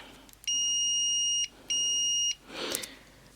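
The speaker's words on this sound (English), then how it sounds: "If I compare the continuity beeper on this," A multimeter's continuity beeper sounds with the probes shorted: two steady high electronic tones, about a second each with a short gap, close and clean, followed by a brief scraping rustle.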